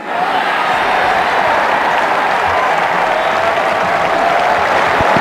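Loud, sustained applause from a big cricket crowd at a Pakistan versus Sri Lanka one-day international after a boundary shot, a dense wash of clapping and cheering that holds steady throughout.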